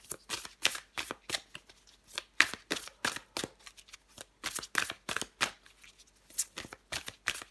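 A deck of tarot cards is shuffled by hand in steady, rhythmic riffles and taps, close up and crisp, with quiet gaps between the strokes and no speech.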